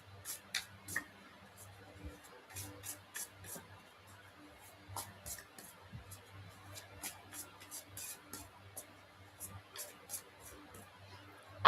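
Tarot cards being shuffled by hand, soft irregular flicks and papery taps repeating quietly at close range with no other sound.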